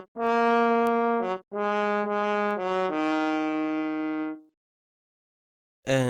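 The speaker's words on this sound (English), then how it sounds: "so I decided to add a horn from Sinful Orchestra," A sampled orchestral horn from the Sinful Orchestra library plays several bright, sustained brass notes. Each held tone is separated by a brief gap, and a last short note enters at the end after a pause.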